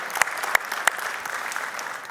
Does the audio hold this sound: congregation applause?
yes